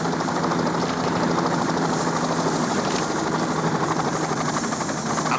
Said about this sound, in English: Chopper in for you guys to unload the loot.